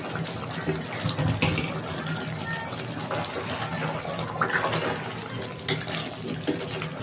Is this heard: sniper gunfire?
no